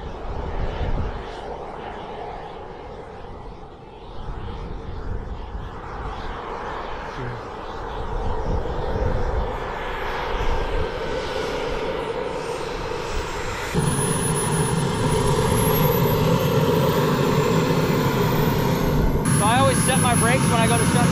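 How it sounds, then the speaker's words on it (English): A Dragon turbine aircraft engine runs up during a taxi test, its loud, steady roar building and thickening with a rising whine near the end. Voices come through at times under the engine. "you give it a couple clicks, you'll hear the engine come up"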